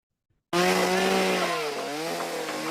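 A chainsaw runs in a scene from the 1986 film The Mosquito Coast. After brief silence it bursts in loud and close, then holds a steady, buzzing roar with slight shifts in pitch and no audible voices.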